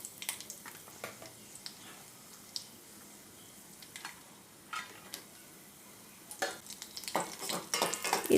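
Almonds, raisins and cashews fry in a pan with a faint sizzle, broken by scattered spoon scrapes and taps that grow busier and louder toward the end, close with no voices.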